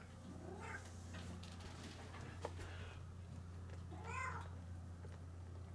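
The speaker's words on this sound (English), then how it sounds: "Big fat cat up there in the attic" A big, fat tabby cat up in an attic gives a few drawn-out, rising and falling meows, faint and somewhat distant, over a constant low hum.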